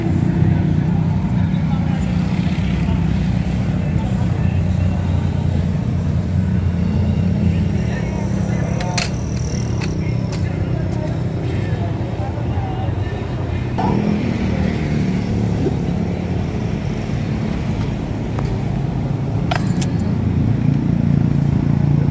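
A BMW motorcycle arrives at the finish of an endurance ride, its engine a loud, steady, close rumble over a busy outdoor crowd with an announcer talking throughout.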